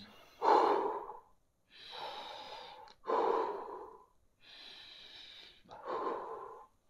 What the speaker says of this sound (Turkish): Diyafram nefesi.